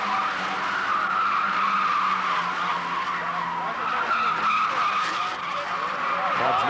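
Showroom Stock C race cars at the 1980 national championship corner hard past the track, tires squealing and skidding over a loud, continuous engine roar.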